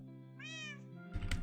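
A single cat meow from the game Minecraft, clear and drawn out, followed by a short burst of rustling noise.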